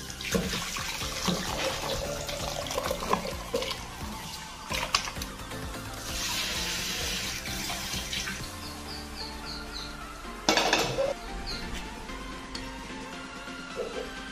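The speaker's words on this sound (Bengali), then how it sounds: "টকটা আমি ঢেলে নিচ্ছি।" Bengali sour coconut milk curry (narkel dudher tok) pours from a pot in a continuous, close liquid stream, with a brief splashy surge near the end.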